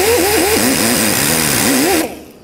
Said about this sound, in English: I actually might use a wire wheel on the die grinder